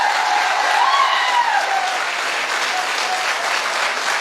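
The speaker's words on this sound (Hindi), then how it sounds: "एक बार जोरदार तालियां होनी चाहिए।" An audience bursts into loud, dense applause at a company success event, a continuous wash of clapping at close range throughout, with a faint whistle-like tone rising briefly near the start.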